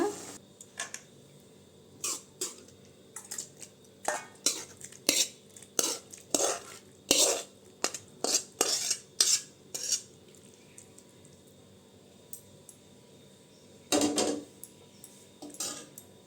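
Chow chow kootu being scooped into a vessel, with a series of close metallic scrapes and clanks of a spoon against the pot, irregular and bunched, followed by a pause and one final louder clatter.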